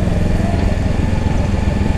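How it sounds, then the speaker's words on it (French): Honda CB500X motorcycle engine running with a steady, loud, buzzing drone and no gaps, close by and without speech. "Je roule en CB500 Honda, donc en CB500X."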